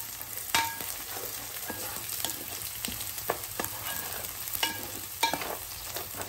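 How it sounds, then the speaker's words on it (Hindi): Green chilies and curry leaves fry with onions for a Nellore-style fish curry, a steady close crackling sizzle broken by scattered sharp pops and spatters of oil. "चलिए फ्राई कर लें।"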